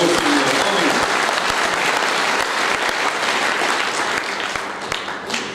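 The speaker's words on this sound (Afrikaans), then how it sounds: "Kom ons gee vir die Here hande klap." Sustained, dense applause from a church worship audience clapping for the Lord, loud and close, with a crowd clapping continuously and fading slightly toward the end.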